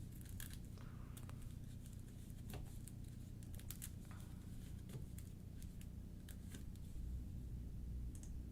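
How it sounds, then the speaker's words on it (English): Game cards from the discard pile of the DC deck-building game are shuffled by hand, soft quick riffling and snapping taps in irregular bursts, faint and close, with no talking. "Time to shuffle that discard pile."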